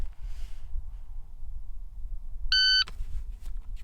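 A single sharp electronic shot-timer beep at shooting practice sounds briefly midway through, clean and steady, against a quiet low background hum.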